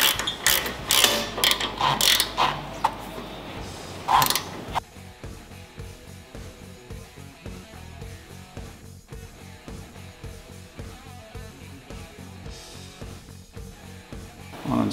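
A ratchet tightens the front wheel bolts on a Harley-Davidson bagger fitted with a 21-inch front wheel. A few louder clanks come first, then a long run of quick, even ratcheting clicks, close and clear.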